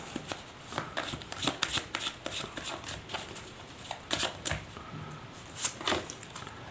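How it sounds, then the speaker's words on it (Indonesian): Tarot cards are shuffled by hand in close, soft riffling flicks and taps, an irregular run of quick card slaps that stays quiet and continuous throughout. "Langsung saja saya shuffle kartunya."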